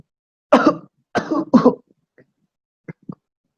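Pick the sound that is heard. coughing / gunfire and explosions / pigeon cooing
coughing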